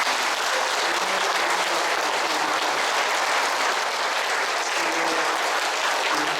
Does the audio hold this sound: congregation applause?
yes